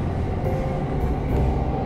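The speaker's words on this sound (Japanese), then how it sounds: "先ほどの山手線と京浜東北線が発車し始めたので撮ってみました。" Yamanote and Keihin-Tohoku Line trains pulling out of a station in Akihabara, Tokyo, a steady low rumble of rolling railcars heard from nearby, with no voices.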